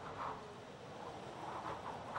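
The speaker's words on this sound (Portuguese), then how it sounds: "Isso é o som do vento soprando pela janela, Beto." Wind blows through a window as a faint, steady whooshing with soft swells and no voices over it.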